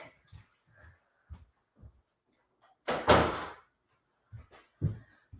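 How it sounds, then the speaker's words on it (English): An office door shuts with a single solid thud in the middle, set between short, quiet bursts of nearby speech. "I just realized the office door is open, so 1 second"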